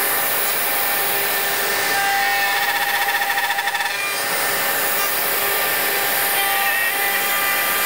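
A Festool dust extractor runs with a steady broadband roar while wood is removed, with rasping, sawing-like bursts of material being cut away near the middle, all close and continuous without talk.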